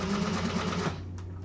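A sewing machine top stitches through thick fabric in a fast, steady, buzzing whir of needle strokes that runs about a second and then stops, leaving the motor hum. It is close and loud, with no talk over it.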